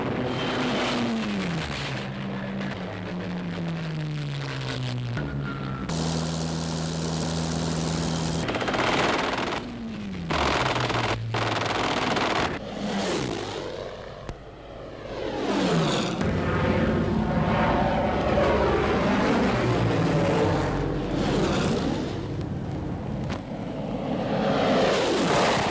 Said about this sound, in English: Achtung, Spitfire!